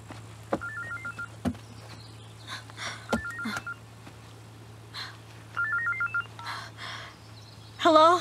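A telephone in a drama sounds repeated short electronic tone sequences and beeps in separate bursts over a quiet steady hum, with a few sharp knocks between them and a warbling ring at the end.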